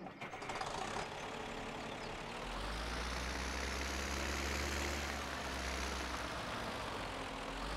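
A tractor engine idles in Farming Simulator 17, a steady low rumble with a deep drone that settles in after a couple of seconds and holds evenly, with no voices over it.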